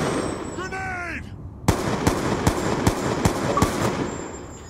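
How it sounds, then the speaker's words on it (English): A grenade going off in Black Ops 2 against bots, followed by a run of sharp, evenly spaced gunshot-like cracks, loud and close, after a short descending chirp. "Grenade."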